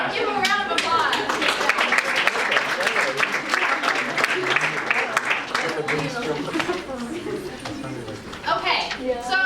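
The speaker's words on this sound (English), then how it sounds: "All right, give them a round of applause." Youth conference audience gives a round of applause, loud sustained clapping from a crowd with chatter and voices mixed in, tapering slightly near the end.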